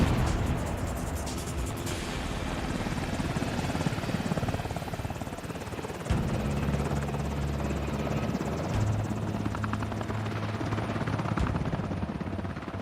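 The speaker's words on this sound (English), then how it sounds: "The sound of incoming Marine Cobras is known and feared around the world. It's a very, very large blade, distinctive sound." A Marine Cobra attack helicopter thunders close by, its very large rotor blades thudding in a dense, loud, continuous chop. A deeper rumble joins partway through, and no voices are heard.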